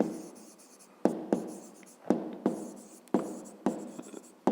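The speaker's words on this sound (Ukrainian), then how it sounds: "Записуємо зайві дані." A pen writes on paper in short, quiet scratching strokes with small taps, as someone jots down a math exercise. The strokes come in a steady rhythm of separate bursts.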